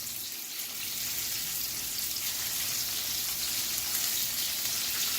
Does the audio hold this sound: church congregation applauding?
no